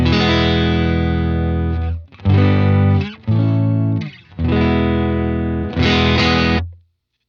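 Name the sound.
Strat electric guitar with slight amp break-up, no reverb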